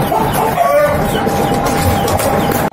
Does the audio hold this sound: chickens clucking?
yes